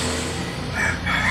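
A rooster crows in a farmyard during a hands-on chicken massage, its call rising in two short bursts against a steady background hum, moderately loud and close.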